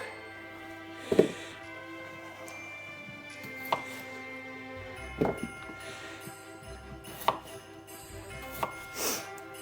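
A knife chops through potatoes on a board, cutting them into halves and thirds, with a few distinct chops spaced out over quiet kitchen background.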